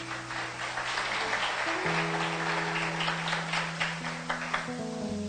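A church congregation claps for Jesus during a service. The applause is moderately quiet and steady, with sustained organ or keyboard tones underneath.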